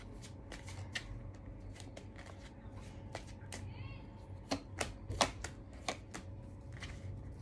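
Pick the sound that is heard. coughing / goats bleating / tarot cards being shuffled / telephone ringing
tarot cards being shuffled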